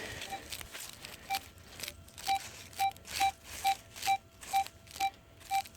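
A metal detector sweeping sandy soil in woods near Fredericksburg, Virginia, while hunting Civil War relics, gives a quiet run of short, evenly spaced beeping tones that grow more regular as it locks onto a target.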